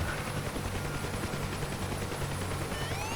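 Helicopter turbine and rotor in the DCS flight simulator throttling down toward shutdown, a steady loud low drone with rotor thump and a faint high whine, continuous with no talk.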